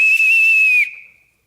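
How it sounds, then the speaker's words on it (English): A shrill whistle, blown to summon someone on a school theater stage, sounds one long loud steady blast with a brief break near the start, then tails off into silence. "I couldn't answer to a whistle"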